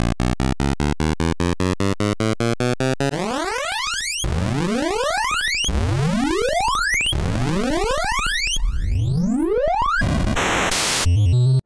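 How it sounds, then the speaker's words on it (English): Homebrew NES cartridge waveforms playing chromatic scales: a run of short, evenly spaced chiptune notes stepping upward, then several rising pitch sweeps of buzzy synthetic tone, ending in a burst of harsh digital noise, loud and clean with no talk. "NES Waveforms is a simple homebrew ROM that plays a bunch of waveforms in chromatic scales"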